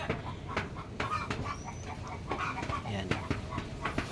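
Chickens, some with colds, cluck and chatter nearby in short, repeated bursts, with a voice talking over them.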